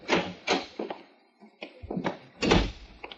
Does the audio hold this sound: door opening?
yes